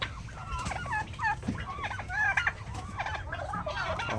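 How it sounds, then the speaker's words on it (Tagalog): Hybrid turkeys gobble repeatedly in a close, busy flock, the warbling calls rising and falling over one another with clucking fowl mixed in. "Hybrid turkey."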